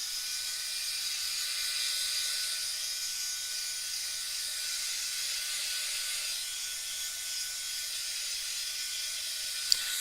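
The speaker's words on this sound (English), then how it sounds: "I'm going to hit this with my dryer really quick so that I don't damage my nice poscas" A handheld craft dryer blows steadily over paint on a mixed media art journal page, a constant airy hiss and whir held at an even level from start to finish, with a tiny click near the end.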